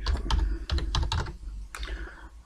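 Quick bursts of typing on a computer keyboard, close and clear, with irregular clusters of key clicks and short gaps between them.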